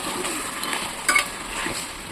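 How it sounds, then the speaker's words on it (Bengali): Meat with spices fries in a pan under continuous close sizzling while a utensil stirs it, with one brief louder scrape midway. No voices are heard. "এদিকে যে মাংসটা দিয়েছি এটা একটু নাড়াচাড়া করে দেবো"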